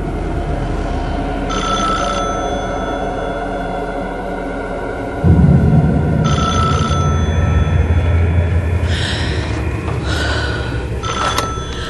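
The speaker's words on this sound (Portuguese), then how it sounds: "Bunny recebe uma ligação de Lorraine Warren" A telephone rings several times in short repeated bursts inside a house, loud and clear over a low background drone, with no voices.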